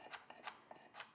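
Knife dicing a carrot on a cutting board: four or five crisp chopping strokes at an uneven pace, close and fairly quiet, with no talking.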